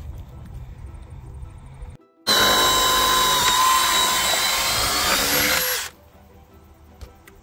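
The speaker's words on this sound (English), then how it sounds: "Just putting these gudgeons on because timber gates don't come with them." A power drill fits gudgeon hinges onto a timber gate outdoors, whirring loudly and steadily for about three and a half seconds after a brief pause, then cutting off to quiet background.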